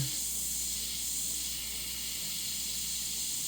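Compressed air from an airbrush sprays ink onto a Claybord panel as a steady, even hiss that holds at a constant level for several seconds with no talking.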